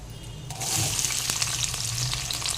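Chicken pieces with fried onions cook for a curry in a pan, giving a dense, steady sizzle with scattered crackles and light stirring, close up, over a low background hum.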